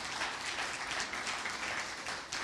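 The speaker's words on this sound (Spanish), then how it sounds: "Denle ese aplauso fuerte a nuestro Señor." A crowd applauds in a dense, continuous wash of clapping, steady and moderately distant, with no talking.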